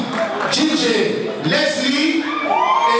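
A lively crowd at a bartender competition night cheering and whooping, with shouts and voices rising over a steady wash of audience noise.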